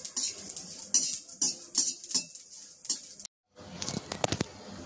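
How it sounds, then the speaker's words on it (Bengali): A metal spatula clatters and scrapes against a pan while cumin and green chillies fry, sharp irregular clinks in bursts, a brief silent gap, then softer rapid tapping and faint sizzle close by. "তো জিরেটাও দেখো এই লঙ্কার সাথে ভেজে নিচ্ছি"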